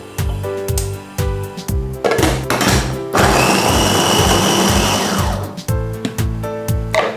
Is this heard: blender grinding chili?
yes